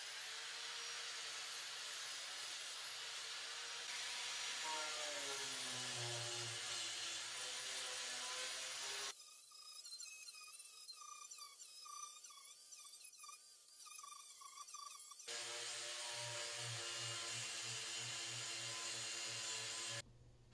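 A buffing disc on a side grinder polishes an aluminum tool case with a loud, high motor whine whose pitch slides as it bites. The sound thins to a quieter, lighter tone midway, then the full grinding roar returns.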